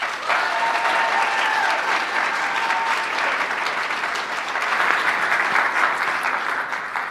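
Sustained applause from a large audience at a live event, dense and loud clapping that holds steady for several seconds with a slight swell toward the end.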